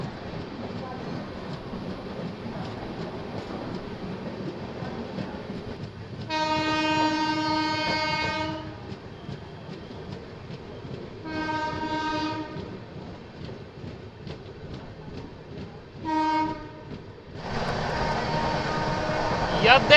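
An Indian express train on a Delhi to Muzaffarpur run rolls along with a steady rumble and rail clatter, while several loud, sustained horn blasts sound close by, the last one long and leading into louder rushing noise.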